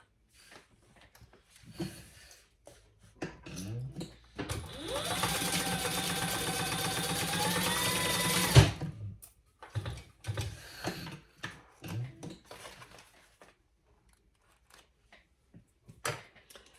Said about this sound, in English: And we're going to sew that on, baste that on.